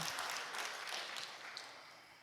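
Congregation clapping at a Korean church prayer service, a faint, distant patter of many hands lasting about two seconds with a soft crowd wash.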